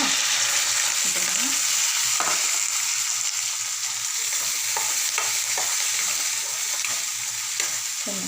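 Boiled chickpeas with masala fry in a pan while a spoon stirs them, giving a loud steady sizzle with occasional scraping strokes, close by and without talk.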